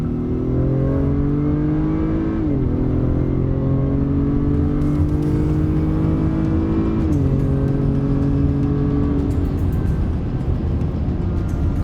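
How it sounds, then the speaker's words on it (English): A 2019 Acura RDX A-Spec SUV engine drones steadily at close range while accelerating, its pitch climbing through the gears with two brief dips at shifts, a continuous low growl throughout. "see if you can pick up on the engine note"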